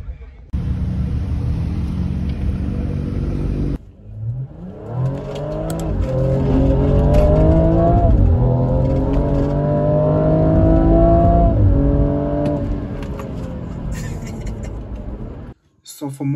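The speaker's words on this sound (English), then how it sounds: "I can hear the exhaust from here." A BMW M135i LCI hatchback engine revs and rumbles through its exhaust, building and falling in pitch for several seconds. The sound is fairly loud and steady, after a brief stretch of other noise, and tails off near the end.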